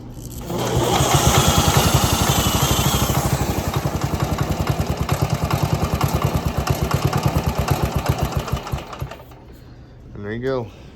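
Wheel Horse tractor engine kicks over and runs with a fast, steady chugging putter, loud and close, for several seconds before cutting out abruptly; a brief voice follows at the end.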